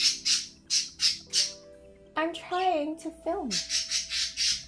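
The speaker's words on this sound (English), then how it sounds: "The birds, I'm sorry." Birds squawk outdoors in loud repeated bursts, several calls in a row, then a voice cuts in briefly before the squawking resumes in a steady rhythmic series.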